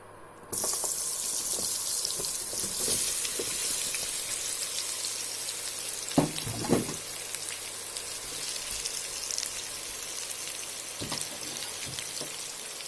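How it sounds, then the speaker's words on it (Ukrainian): Sweet potato sizzles in oil in a hot pan, a steady bright crackle throughout with a few louder pops and clatters from the pan. "Вкладаю батат на розігріту сковорідку з олією."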